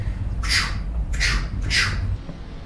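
A pigeon in the VR game Half-Life: Alyx gives three sharp, raspy squawks spaced roughly evenly over a low background hum, fairly close and loud, with no talking.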